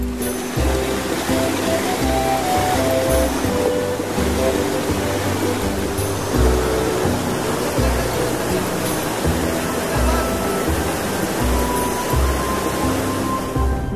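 The Stok river in Ladakh, running low, makes a constant loud rushing roar of flowing water, a broad steady wash heard up close with faint rhythmic thumps beneath it.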